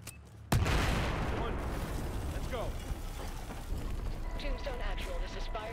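A loud blast opens abruptly in Battlefield 4 gameplay, then a dense rumbling roar of explosion debris and scattered gunfire carries on through the clip, with some game chatter faintly underneath.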